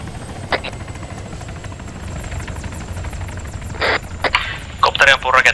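Helicopter in a marksman-style shooting game, its rotor thumping steadily in the background while sharp bursts of gunfire crack out in several short volleys near the end.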